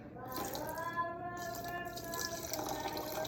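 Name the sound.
warm water poured into flour for sourdough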